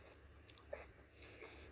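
Faint, crisp crunches from someone biting into a fresh Burr Gherkin cucumber, a few short bites and chewing close to the mic over a quiet background.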